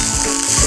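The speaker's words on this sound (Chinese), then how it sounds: "这个牛排煎起来好美味" Beef steak sizzles and spits fiercely in a hot pan over low heat, a dense, crackling hiss of rendering fat close up, brief and steady without any voices.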